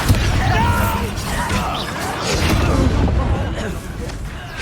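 A Bombarda blasting spell booms in a Hogwarts Legacy battle, loud heavy crashes and rumbling impacts layered over continuous combat noise, with voices shouting during the fight.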